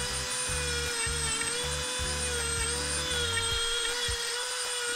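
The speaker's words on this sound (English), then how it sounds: "a bit of sanding goes a long way, just trying to clean those up" Woodturned pieces are sanded on a spinning lathe, a continuous high tonal whine with a rhythmic low pulsing hum beneath, steady and close.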